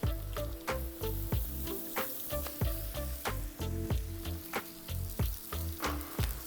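Butter sizzling and frying on a steel flat top griddle while tortillas toast, a continuous close crackle with rhythmic scraping or stirring taps throughout, no voices.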